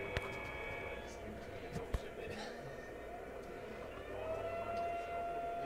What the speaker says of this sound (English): those air raid sirens are my favorite